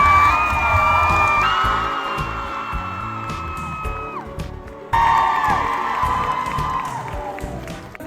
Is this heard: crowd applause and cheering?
yes